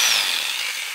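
A very small drill bores into a storage disk, giving a brief, harsh, high-pitched grinding whine that stays loud and close for about a second.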